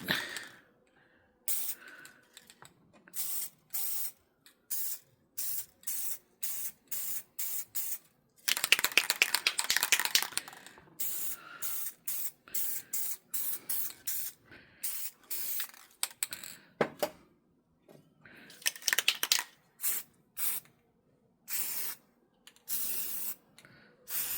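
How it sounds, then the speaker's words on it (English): Rapid hissing bursts from an aerosol can of oil-based spray paint, sprayed onto water for hydro dipping in short repeated spurts with a longer continuous spray midway. The spray sounds close and fairly quiet, with no voices. "I'm going to take these colors and just kind of spray them in the"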